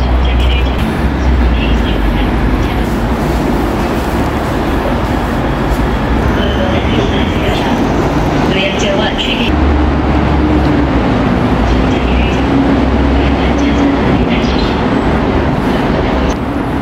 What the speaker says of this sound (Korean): 지하철이 들어오고 있네요